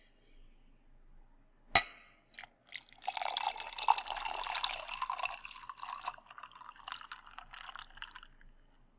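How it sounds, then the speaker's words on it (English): A glass of ice water handled up close: one sharp clink, then a steady stretch of trickling, dripping liquid and faint glassy rattles that carries on to the end, with no talking. "I have here in my hands a glass of the finest ice water, fresh from the cellar of Count Waldemar's estate."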